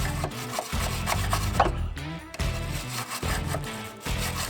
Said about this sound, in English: I'm going to take a wire brush and my drill with the wire bit, and I'm going to try to knock down all the loose rust in here